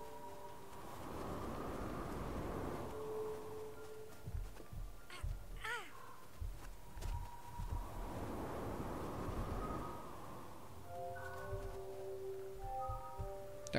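Wind in the video game Never Alone sweeps in as broad swelling gusts that rise, fade and return, mixed with game tones and clicks at moderate loudness, alone without talk.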